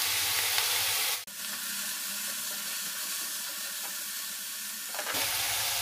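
Sliced tomatoes frying in a pan over a medium gas flame, giving a steady broadband sizzle that runs almost throughout, with a brief dip near the start and stirring scrapes, heard alone without talk.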